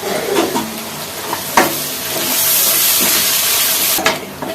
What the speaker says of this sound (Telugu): ఉల్లిపాయలు మగ్గేదాకా అల్లం వెల్లుల్లి వేసుకొని ఫ్రై అయ్యే వరకు, పచ్చివాసన పోయే వరకు వేసేద్దాం మగ్గుతూ.